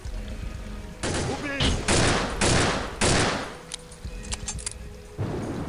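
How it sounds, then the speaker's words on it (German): Gunfire in the video game Soldier of Fortune II Double Helix: several loud bursts of rapid shots in quick succession, then softer scattered pops and one more burst at the end. "und schon wieder daneben geschossen."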